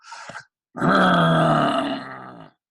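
A voice imitates snoring with a long, rough, rattling exhale after a brief breathy sound, close and fairly loud.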